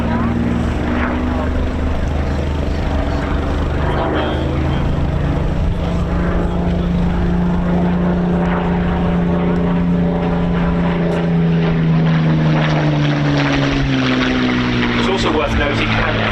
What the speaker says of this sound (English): You can tell that that's that Spitfire from its sound.